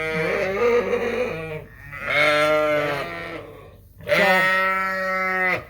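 Suffolk ewes bleat in a barn ahead of lambing, several animals calling in long wavering cries that overlap and come in three loud bursts, close by and clear.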